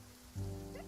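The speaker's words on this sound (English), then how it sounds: "It's raining." Rain falling in the game Genshin Impact, a soft hiss of rainfall that swells suddenly partway through and holds steady, faint and brief, with a low tonal hum underneath.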